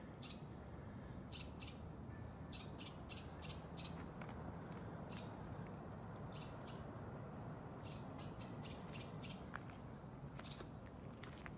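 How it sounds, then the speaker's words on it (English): Repeated short, high-pitched chirping calls in irregular clusters, fairly faint and distant over a steady low outdoor rumble. "I don't know what bird is making that sound."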